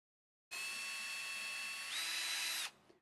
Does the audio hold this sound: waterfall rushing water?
no